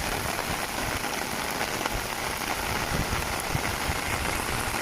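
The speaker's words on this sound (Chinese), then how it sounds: "江西新雨下这么大" Heavy rain pours in Xinyu, Jiangxi during a storm, a dense, steady hiss of drops drumming on surfaces close by, unbroken and loud with no voices.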